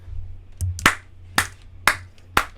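Four or five sharp hand claps ring out at a close microphone, spaced roughly half a second apart, each one crisp and loud against a low background hum.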